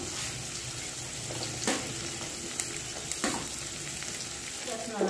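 Green chillies frying in oil in a pan for a Nellore-style fish curry, a steady close sizzle with a few soft clicks and stirring scrapes, no talking.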